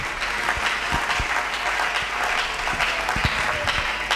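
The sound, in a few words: church congregation applauding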